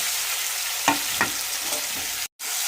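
Spice-coated small prawns and green tomato frying in hot oil, a steady close sizzle with a couple of sharper spatters and stirring scrapes, then a brief cut before the sizzle resumes.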